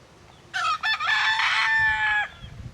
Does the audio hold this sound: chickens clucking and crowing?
yes